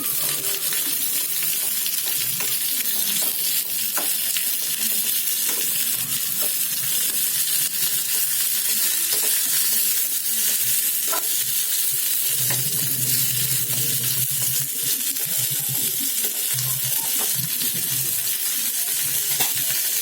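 Onions sautéing in oil for a sambar tempering, a loud, dense, unbroken sizzle with scattered light scraping of a ladle stirring throughout, and no voices.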